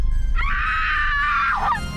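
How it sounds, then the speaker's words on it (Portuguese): A single long, piercing scream rises abruptly, holds loud and steady for over a second, then drops away, set against a low rumbling background. "A primeira coisa que eu ouvi foi um grito"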